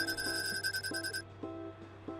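A phone ringing in the game Coffee Talk: a bright electronic ring trills for about a second over soft background music, then stops.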